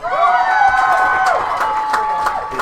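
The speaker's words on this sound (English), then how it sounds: "I think the two of them might have some support for by the sound of the crowd." Crowd noise at a women's rugby match in the Farah Palmer Cup, Waikato against Counties Manukau, a steady roar of cheering and shouting from the stands that stays loud throughout.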